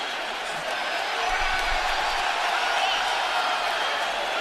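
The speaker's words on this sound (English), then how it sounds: "I don't like to hear the fans cheering" Basketball fans in a Toronto Raptors arena make a steady, distant wash of crowd noise and cheering, broad and even throughout, with no single voice standing out.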